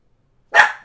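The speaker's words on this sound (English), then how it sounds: "And that was my dog." A single dog bark, close and fairly loud, bursting out after near silence and trailing off quickly.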